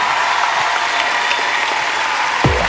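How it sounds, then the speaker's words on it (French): Dense, loud studio audience applause on a French TV talent show, a continuous roar of clapping with a low thump near the end. "Et je crois qu'on peut l'applaudir, s'il vous plaît."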